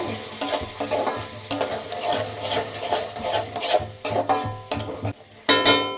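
A spoon stirs palak paneer curry in a pan over low heat, making repeated rhythmic scraping strokes over a gentle sizzle and a low background hum, close and fairly loud.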